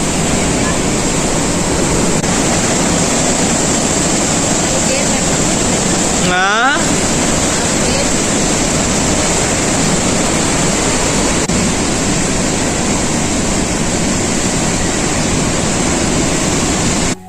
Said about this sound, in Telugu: సో చూసారు కదా వాటర్ ఎంత మంచి సౌండ్ వస్తుందో